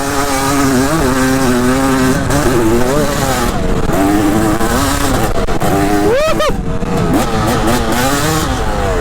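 A dirt bike engine revs and bogs while being ridden inside an abandoned house, loud and close with rising and falling pitch sweeps, including a sharp burst of revving near the middle.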